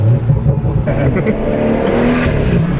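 A BMW 340i engine with a newly installed Agency Power intake rumbles loudly and close, revving with a deep throaty tone while a voice speaks faintly underneath.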